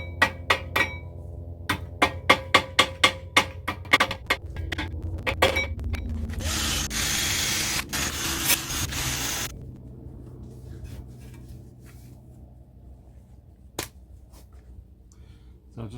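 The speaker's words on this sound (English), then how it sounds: "try and clean this caliper up and some of the suspension components ready for rust proofing" A rusty car brake caliper is cleaned up close, with a run of sharp metallic taps, then a few seconds of harsh scrubbing from a brush or abrasive, followed by quieter scraping and a single knock.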